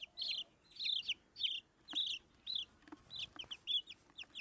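Chickens clucking close by, including chicks that are being treated for illness, in a steady series of short clucks and chirps repeating about twice a second with no talk.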